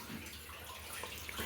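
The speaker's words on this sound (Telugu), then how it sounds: "పంపు వదిలాను, దీంట్లో నీళ్ళు అయితే వెళ్ళిపోతున్నాయి." A sink tap left running with water draining away through the pipe, a soft continuous splashing and trickle that stays even and fairly quiet throughout, with no talking.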